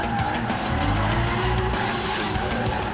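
Race cars at full throttle drifting on a track, with a steady roaring engine and tire squeal and skidding layered on top, loud and continuous.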